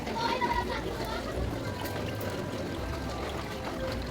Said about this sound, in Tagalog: So galing dyan sa taas ang tubig guys.